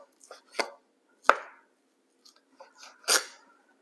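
A knife cutting raw steak into bite-sized pieces for fajitas on a board, a few sharp, separate close chops and slicing scrapes with quiet gaps between them, no voices.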